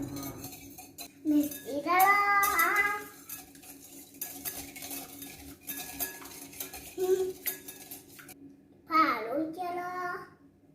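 Cake batter with eggs gets mixed in a bowl by a young girl, a spoon clinking and scraping against the sides in irregular strokes while a voice chatters now and then.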